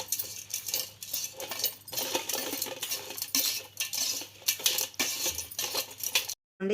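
Tamarind rice (pulihora) is mixed with salt, a utensil clinking and scraping against a metal dish in quick irregular strokes, close and clear, ending abruptly.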